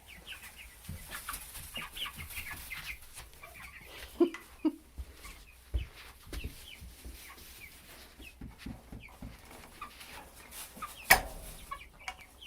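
Several hens settling into a brand new chicken coop on their first night, giving soft scattered clucks and brief squawks, a few louder calls standing out against a quiet, steady background.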